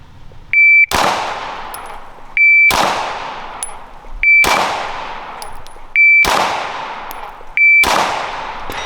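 At a shooting range during a trigger comparison, five loud, sharp gunshots ring out one after another, each preceded by a short electronic timer beep and followed by a decaying echo.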